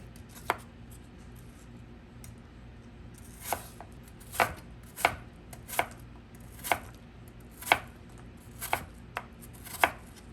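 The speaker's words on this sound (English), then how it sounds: "Start by peeling and finely dicing 2 apples and 1 pear." A knife dices peeled Gala apples and a Bartlett pear on a cutting board, with sharp, close chops landing in irregular bursts of about a dozen strikes and quiet between them.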